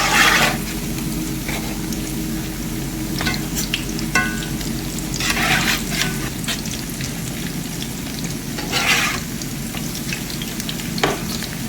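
Crispy squash patties frying in a pan, a steady close sizzle and crackle of hot oil running throughout with occasional louder spits and pops, no voices.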